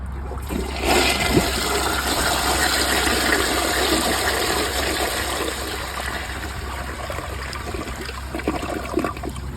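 A 2000s Mansfield Alto toilet with a dirty bowl and a mid-height tank flushes close up. A loud rushing surge of water follows, then it settles into a steady trickle as the tank refills, with no talking.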